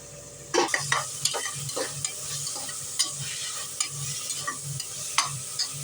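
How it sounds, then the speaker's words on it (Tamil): Tomatoes sauté in a pan for bitter gourd kootu, a steady sizzle of frying broken by repeated scraping strokes of a stirring spoon, close and moderately loud with no talking. "நல்லா வதங்கட்டும். தக்காளி கொஞ்சம் வதங்க."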